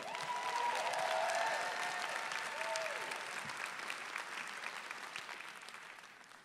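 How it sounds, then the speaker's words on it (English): An audience at a hip hop dance spotlight claps and cheers steadily, with a few whoops rising above the dense applause early on before it gradually thins and fades. "Please make some noise for Christine with instructor Glenn Ball."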